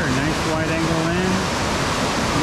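A North Shore waterfall pours in a steady, loud broadband rush that never lets up, with faint tonal traces riding over the roar.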